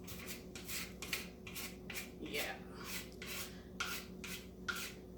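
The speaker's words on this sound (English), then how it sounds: "I was just taking a putty knife and applying it here." Putty knife spreading textured 3D stencil paste over a wooden spice rack, a quiet rhythmic scraping of about ten short strokes close by, with a faint steady hum underneath.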